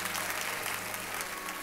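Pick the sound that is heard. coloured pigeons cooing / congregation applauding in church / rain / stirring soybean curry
congregation applauding in church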